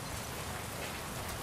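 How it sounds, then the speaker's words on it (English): Steady rain in The Last of Us Part II, a dense even hiss of drops falling on surfaces and a roof, constant and fairly quiet with no voices over it. "Man, that rain is awesome. It's very relaxing."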